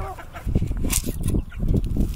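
Hens clucking and squawking in short bursts at close range, with rustling and scratching mixed in.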